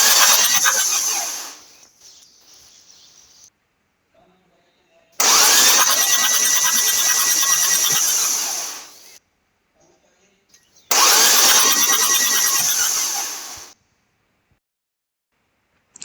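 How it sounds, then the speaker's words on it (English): An oil-burning diesel engine is cranked over on its starter with the fuel injector holes open after bitumen fluid was cleared from the combustion chamber. Three separate loud bursts of fast whirring, each roughly three seconds long, are separated by silence. "we crank again our engine"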